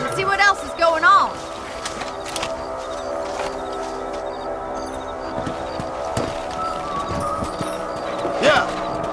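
Horses galloping with a steady clip-clop of hooves in the Red Dead Redemption video game, running continuously under speech and game music, with a brief louder burst near the start and another near the end.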